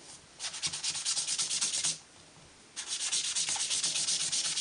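Taupe craft ink is rubbed over a surface in two bursts of steady, scratchy back-and-forth strokes, close and fairly quiet, separated by a short pause with no talking.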